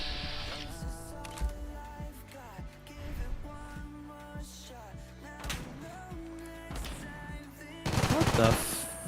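Rapid bursts of automatic gunfire rounds in Skyrim SE, loud and close, repeating in clusters with a heavy final volley near the end amid dense game effects.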